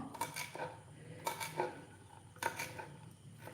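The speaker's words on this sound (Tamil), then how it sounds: "அடுத்து கொஞ்சமாக கொத்தமல்லி இதையும் வந்து நைஸாக கட் பண்ணிக்குவோம்" Fresh coriander being finely chopped with a knife for a green gram sprout salad: a few sharp, separate strikes on a board, close and moderately loud, with quiet gaps between.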